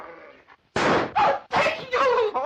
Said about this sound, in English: Get rid of that dog.